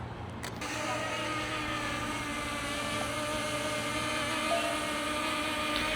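A Ruko U11 Mini drone takes off outdoors at a camping spot, its propellers producing a steady, fairly faint buzzing whine with a constant hum that holds for several seconds, heard alone without talking.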